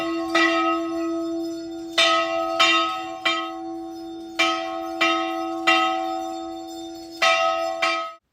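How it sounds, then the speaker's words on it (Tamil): A temple bell at Sthala Sayana Perumal temple, Mahabalipuram, struck repeatedly in an uneven rhythm, each clear metallic strike ringing out with a long sustained hum, about seven strokes, no voices. "கோயில் மணி ஓசையே அற்புதமான உணர்வு"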